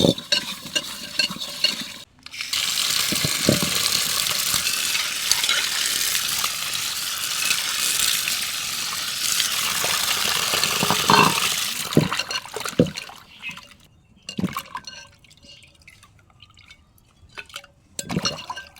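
Taki fish rubbed with salt and rinsed in water: about ten seconds of close, continuous sloshing and scrubbing, then scattered splashes, drips and light clinks, with no talking.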